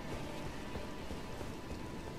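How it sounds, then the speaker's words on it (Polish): Steady rain falls in Elden Ring, a dense, even hiss of drops spread across the whole clip with no breaks or voices. "Jeszcze deszcz zaczął padać"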